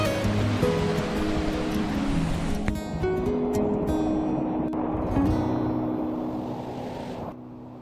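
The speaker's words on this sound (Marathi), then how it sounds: "तर बघू शकता इकडे वाहणारे पाणी" Water flows at Adai waterfall near Panvel, a loud, continuous rushing close by that fades slightly toward the end.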